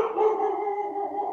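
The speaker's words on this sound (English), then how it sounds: "hey, that's my dog." A dog lets out a single drawn-out howl-like bark, loud and close, holding a steady tone for over a second with no talking.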